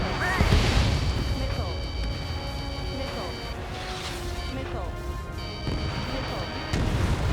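Missile launch in a fighter plane video game, a loud sustained rushing roar layered with booming bursts and electronic warning tones, continuing dense and heavy throughout.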